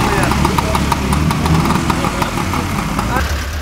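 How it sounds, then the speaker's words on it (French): Vintage collector cars warm up their engines at a spring fête in Sorbiers, Loire, a steady, close, throaty idle rumbling continuously with crowd voices mixed in. "On fait chauffer les moteurs,"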